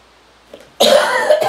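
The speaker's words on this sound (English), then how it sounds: "Excuse my cough, guys." A single sharp, close cough bursts out loudly, followed by a brief second huff, from someone in the middle of making DIY glitter lip gloss.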